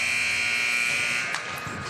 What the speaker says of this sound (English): the buzzer will sound on the first period